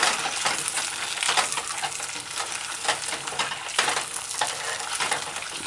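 Chicken and cauliflower in oyster sauce being stirred in a saucepan on a medium-low stove, a steady close sizzle with scraping and light utensil clicks, without talk.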